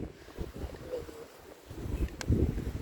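Strong wind gusts buffet the microphone outdoors in Bali near the Ayung River, a low rumbling roar that swells louder toward the end, with faint voices in the background.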